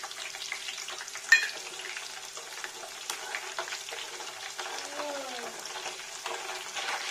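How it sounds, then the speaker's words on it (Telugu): Cumin and mustard seeds sizzling in hot oil for gongura chutney, a steady crackling fry with scattered pops and a brief clink near the start, no talking. "ఇప్పుడు దీంట్లో తాలింపు గింజలు వేసుకుందాము"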